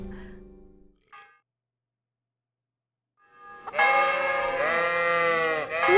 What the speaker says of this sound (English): Why am I with sheep now?